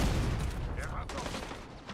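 Rapid bursts of automatic gunfire during a firefight in The Division 2, a dense clattering volley that runs through the whole moment over game noise.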